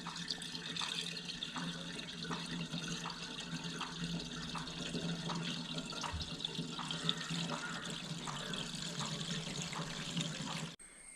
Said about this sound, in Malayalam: ഗായ്സ് നമ്മൾ ഡീസൽ ഒഴിച്ചിട്ടുണ്ട്.